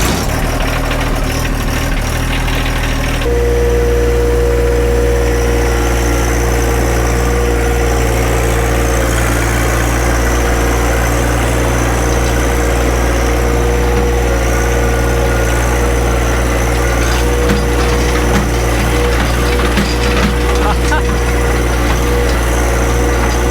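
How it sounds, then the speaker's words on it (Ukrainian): Tractor engine idling, a loud, close, steady low drone with a deep mechanical hum and vibration, shifting slightly in pitch after a few seconds and then holding constant with no talk. "Так, цеп взяли, беремо трактора"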